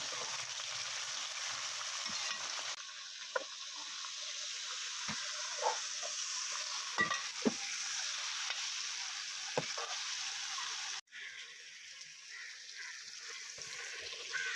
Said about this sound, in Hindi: चिकन को अच्छी तरह से भूनेंगे प्याज में हम।